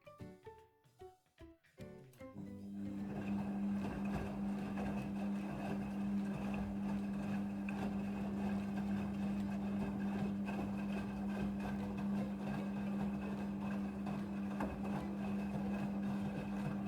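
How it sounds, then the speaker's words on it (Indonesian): A Midea front-loading washing machine rinses towels: a few soft clunks and sloshes at first, then a steady, droning motor hum with a constant low whirr of water churning in the drum, heard alone at a moderate level. "Mesin cuci ini membilas cucian sebanyak 2 kali pembilasan dalam sekali"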